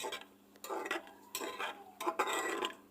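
Chopped onion and green chili frying in oil inside a pressure cooker, with faint sizzling and a few soft stirring scrapes and taps of a spoon against the pot, quiet and close.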